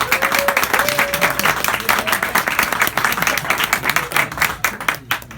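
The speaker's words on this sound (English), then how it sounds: "So another round of applause" Sustained applause and clapping from a crowd at a bar, dense and steady for the whole stretch, with a faint tonal voice-like sound poking through early on.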